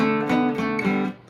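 A short guitar riff of a few plucked notes in quick succession, bright and close, fading out at the end.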